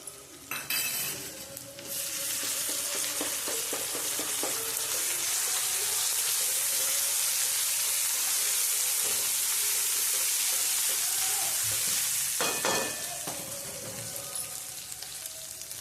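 Ginger-chili paste sizzles in a pan while being stirred for a Gujarati okra dish, a strong steady frying hiss broken by spoon scrapes and clatter at the start and again near the end.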